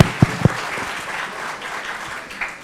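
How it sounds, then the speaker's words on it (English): Conference audience applauding at a national nutrition meeting at a hospital, opening with a few sharp nearby claps, then a softer steady spread of clapping across the room that thins toward the end. "So just applause for her professional commitment."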